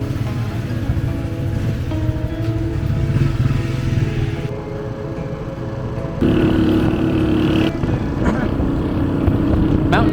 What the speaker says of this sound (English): we're about to catch our motorcycle taxi ride to the trailhead